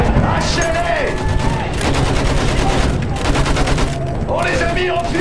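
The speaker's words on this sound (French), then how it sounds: "À la mitrailleuse." Machine gun fire in the World War I shooter Battlefield 1 during a trench assault, rapid bursts of shots with booms and game music beneath, while a voice talks over parts of it.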